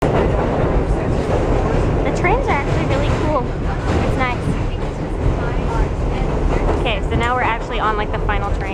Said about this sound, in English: we're on the metro, or we're waiting for the metro